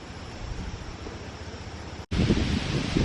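Continuous wind rushing across the microphone outdoors after a typhoon, a broad steady roar that cuts out for an instant and returns louder.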